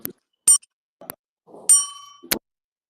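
A bell heard faintly over an online call, struck in a few separate dings with clear gaps of silence between them and a ringing tone that lingers after the strongest hit.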